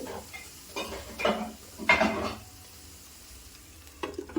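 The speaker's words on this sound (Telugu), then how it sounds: "five to ten minutes fry చేసుకుందాం చూసారు కదా ఆయిల్ అనేది పైకి వచ్చేస్తుంది" Potatoes and chana dal masala frying in oil in a pot, with soft sizzling and a few brief bursts of stirring and scraping, then a quieter simmer with faint clinks near the end.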